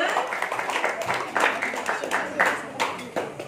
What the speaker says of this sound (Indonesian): Boleh berikan tepuk tangan untuk pemotongan tumpeng yang pertama